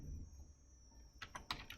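A few quick, soft keystrokes tap on a computer keyboard after a near-silent pause, sounding close but faint against a thin steady electronic whine.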